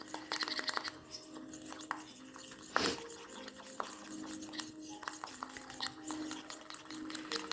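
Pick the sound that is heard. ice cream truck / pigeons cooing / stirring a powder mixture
stirring a powder mixture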